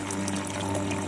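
Water gushes hard from a pump during the drilling of an Abyssinian well in the village of Khrapki, a brief, dense, close rush of splashing flow.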